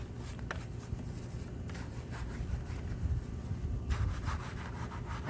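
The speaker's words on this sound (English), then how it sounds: "I'm going to use this brush here first and just kind of go in, just agitate" A stiff brush scrubs back and forth inside the barrel of a car wheel, giving a steady, close rubbing and swishing with soft bristle strokes and no talking.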